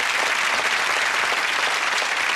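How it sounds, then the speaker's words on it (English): A studio audience at a televised magic show applauds steadily for a power weightlifter guest, a dense, even wash of clapping that holds at full strength throughout with no pauses. "Nice round of applause for Trevor."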